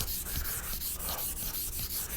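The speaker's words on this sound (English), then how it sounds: "That is the medium grit rust eraser." A medium grit rust eraser is rubbed back and forth across a whetstone, giving a harsh, close sanding scrape in a steady rhythm of strokes roughly every half second, with no speech.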